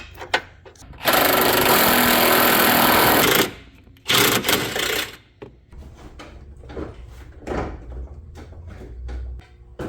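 Power tool, likely an impact wrench, removing the bolts of a Tyger stubby bumper on a Jeep Wrangler 4xe: two loud sustained bursts, the first about two seconds long and the second shorter, followed by clanking and handling noises.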